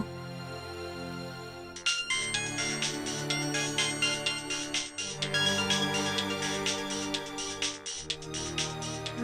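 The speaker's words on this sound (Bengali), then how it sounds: "কৃষের ফোনে ফোন করছে।" A mobile phone ringtone plays for an incoming call, a loud repeating electronic melody with bright bursts of notes in steady rhythm, heard alone and close.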